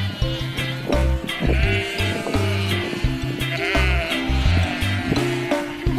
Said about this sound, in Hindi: यह भेड़ है।